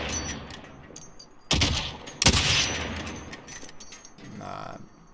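Gunfire in a Call of Duty: Warzone match, two sharp loud bursts of shots cutting through a steady game background, followed by a quieter low engine-like swell near the end.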